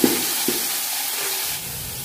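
Food frying in a pan gives off a steady hiss, broken early by two quick knocks of a spoon or spatula as it is stirred, all close by and with no talking.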